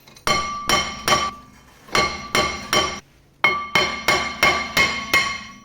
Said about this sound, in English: right now I'm gonna take off the rotors.